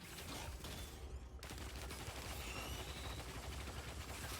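Continuous gunfire in the Risk of Rain 2 VR mod, a dense stream of shots at steady loudness with no clear pauses.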